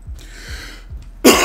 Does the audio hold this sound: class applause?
no